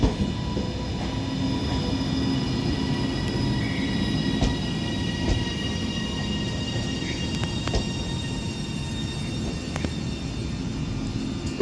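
A doubled-up Northern Class 331 electric train arrives at Manchester Oxford Road station with a continuous low rumble and rolling wheel noise, faint high squeals and clicks over the track, and no talking.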